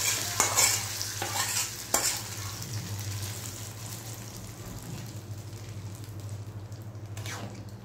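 Khichuri stirs and sizzles in a pot, a steady close frying hiss broken by a few sharp scraping strokes of the spoon early on, with no talking.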